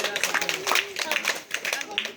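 Village street-show audience clapping together at a snake-charmer's performance, a close, rhythmic burst of many hands, loud and steady throughout, with voices mixed in.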